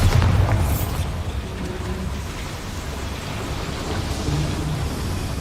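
A Bombarda spell blasts in the Hogwarts Legacy video game, a loud, deep booming burst at the start that rolls into a long, rumbling, rain-like wash of noise, with no voices.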